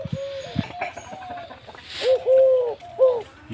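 A newly acquired pet kora bird (watercock) calls nearby, giving several resonant, hollow hooting notes in short bursts, clear and fairly loud with little else around.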